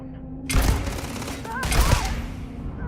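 A heavy gun fired in Starfield lets off two loud, punchy bursts about a second apart, close and sharp, with quiet game ambience between them.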